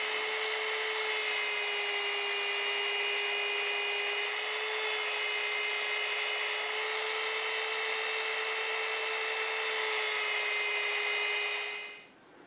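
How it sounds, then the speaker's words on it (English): A belt sander running with 120 grit sandpaper to shape a wooden sword, a steady loud high-pitched whine held for the full length before winding down at the end, with no talking. "I'm going to use the belt sander again to shape this"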